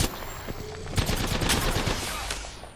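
Automatic gunfire in Apex Legends: rapid bursts of shots crackle close by at moderate volume, with sharper reports punctuating a steady rattle.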